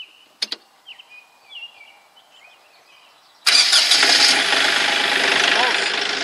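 Diesel engine of a Kioti CK3510 compact tractor cranks and catches outdoors after a quiet stretch with a few chirps, then runs loud and steady close by.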